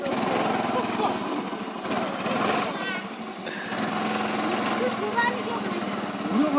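A scooter engine runs with a light, buzzing hum during a riding lesson, rising and dipping slightly as people talk over it.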